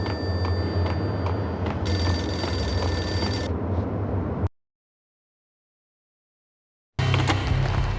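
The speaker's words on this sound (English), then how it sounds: "The payphone started to ring." A payphone in the video game Max Payne rings with repeated electronic bell trills over a steady low background hum, then cuts to silence before the ambience returns.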